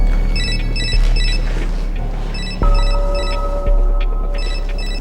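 A telephone bell rings in repeated bursts of bright trilling tones, with a low steady hum beneath, in an indoor scene.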